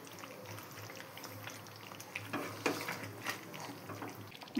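A pot of meat curry gravy bubbles away on the stove, a soft, steady simmering hiss with a few louder pops, faint and close, with no voices.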